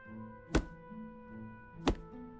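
An axe chops a tree in the video game ScrewUp: two sharp, solid thunks about a second and a half apart, over a steady hum of background game music.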